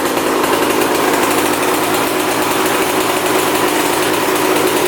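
A dirt bike engine idles nearby at a fast, steady buzzing pace, loud and unchanging throughout with no speech.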